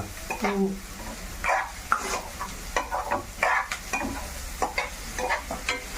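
A spoon scrapes and stirs through sizzling food in a frying pan, with repeated irregular strokes close by over a steady fry hiss, while someone speaks now and then.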